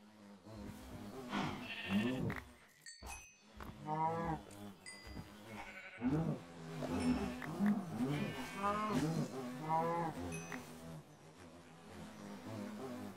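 Livestock in Minecraft give repeated low, drawn-out cow moos mixed with clicks and other game sounds, fairly loud and arriving in irregular bursts, with someone talking over parts of it.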